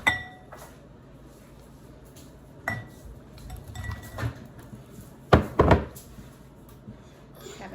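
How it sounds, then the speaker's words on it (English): Baked tofu being stirred into a sauce in a bowl or pan, with scattered clinks and scrapes of a utensil against the dish, some sharper knocks, close and intermittent over quiet room tone. "we're going to mix this tofu with the sauce"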